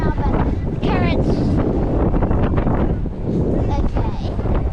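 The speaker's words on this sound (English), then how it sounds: "it's really windy right now" Strong wind buffets the microphone on a fishing boat off Marathon, a constant loud rumbling roar with gusty swells while someone talks under it.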